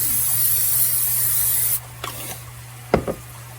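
A steady close hiss of cooking spray onto a heating cast iron pan for a couple of seconds, then it stops, followed by a few light scrapes and clunks.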